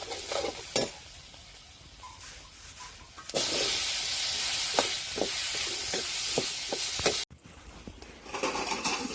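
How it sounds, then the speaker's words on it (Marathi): Black masala spice sizzles and fries in hot oil for a drumstick curry, a loud steady hiss with scattered crackles and stirring clicks, close up and without speech. "आता तेल बी तापलं टाकलेलं आहे मी आणि आपल्याला थोडासा काळा मसाला टाकून घ्यायचा आहे"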